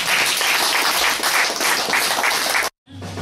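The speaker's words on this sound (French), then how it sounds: "Applaudissez plus fort" A church congregation breaks into loud, sustained applause at a Sunday service, a dense wall of clapping that cuts off abruptly near the end before quieter room sound returns.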